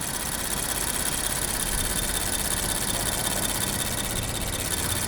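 A 2021 Infiniti Q50 Red Sport 400 with a 3-liter V6 idles steadily, a constant broadband engine hum and vibration heard up close without talk.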